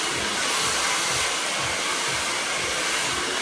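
A hair dryer blows hair dry in a big, bouncy styling session, as a loud, continuous, close roar with a rhythmic whooshing pulse as the airflow moves through the hair.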